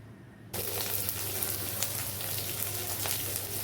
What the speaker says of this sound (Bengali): এখন দিয়ে দিচ্ছি বেটে রাখা জিরে জিরেটাও কষিয়ে নিচ্ছি মশলার সঙ্গে